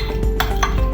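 A spoon stirs rice flour, cornstarch and pepper in a bowl, giving a quick run of light clinks and scrapes over about a second, close and clear with no voices.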